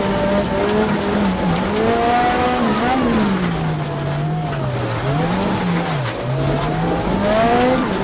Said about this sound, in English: Lovely engine there.